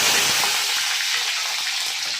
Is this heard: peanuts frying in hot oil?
yes